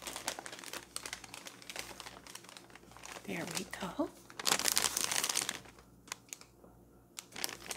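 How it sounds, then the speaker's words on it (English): Christmas wrapping paper on a present crinkles and rustles in bursts as it is torn open, growing loudest near the end, with a person speaking quietly over it. "So there'll be a little bit of crinkling."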